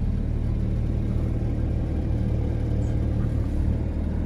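A Porsche 992 GT3 Clubsport engine rumbles deeply and steadily at close range with the exhaust open, a constant throaty drone with no clear rise or fall.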